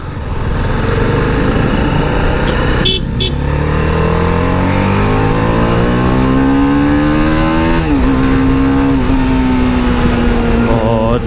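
A TVS Apache RR 310 motorcycle in sports mode revs hard, its engine note climbing steadily in pitch, dipping briefly at a gear change, then rising again, loud and close over constant road and wind noise.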